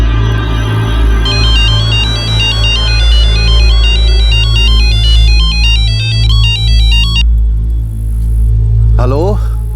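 Electronic telephone ringtone bringing a threatening call, a repeating tonal ring pattern over a low throbbing hum and dramatic background music, stopping before a rising sweep.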